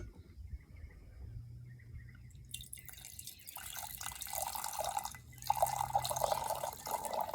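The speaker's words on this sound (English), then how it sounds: "they pour it from about 8 to 10 inches in the air, which creates this burst of bubbles in the glass" Txakoli white wine poured from about 8 to 10 inches above a glass, a steady splashing trickle of liquid building into a brighter, fizzing stream that runs continuously, close and moderately loud.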